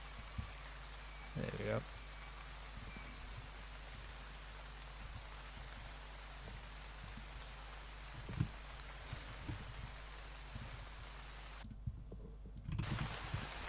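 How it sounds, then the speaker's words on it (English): A rain sample layered as a background bed in a techno track built in Ableton, a steady soft patter running throughout under brief speech, with a few clicks and a short gap near the end. "So we got the background rain."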